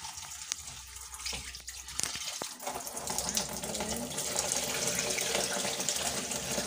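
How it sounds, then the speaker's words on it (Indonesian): Cabbage and corn washed under a running kitchen tap, a steady rushing splash of water that grows fuller and louder partway through, with a few clinks and handling sounds early on and a voice faintly underneath. "kubis dan jagung akan saya cuci sampai bersih ya, karena saya akan memasaknya ya"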